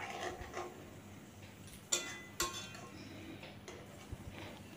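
Okra is stirred gently in a pan, with soft, faint scraping and two distinct metallic clinks of the utensil against the pan, alone with no voices.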